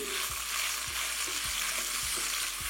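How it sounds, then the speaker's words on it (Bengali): Okra shallow frying with a pinch of salt in hot oil over high flame, giving a steady loud sizzle with soft periodic scrapes and knocks of stirring, and no talk. "এসে এটাকে ভালো করে মিশিয়ে নিয়ে শ্যালো ফ্রাই করে নিচ্ছি।"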